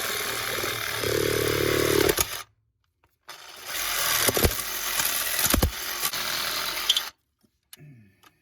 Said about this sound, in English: I'm gonna use just use a little Sawzall to get that done